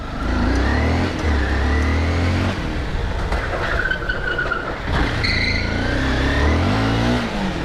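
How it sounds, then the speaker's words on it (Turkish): A motorcycle engine revs hard during a ride, its loud throttle bursts rising and falling in pitch over a steady roar, with no talk. "Aga motorla gazlamayı özlemişim ya."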